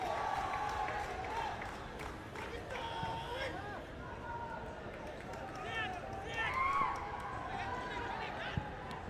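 A crowd roars and cheers in a stadium at an India versus Pakistan under-20 football match, a steady wash of massed voices swelling near the end, with a commentator talking over it.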